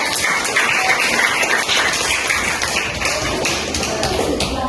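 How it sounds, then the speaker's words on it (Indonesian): Applause from a group at an academic supervision coaching session, a dense, steady patter of many hands clapping throughout, fairly loud and close, with faint voices mixed in. "Tepuk tangan dulu buat kita semua"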